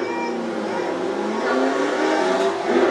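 Race car engines roar steadily at a grudge match on a dirt track, a continuous loud revving drone with slight swells throughout.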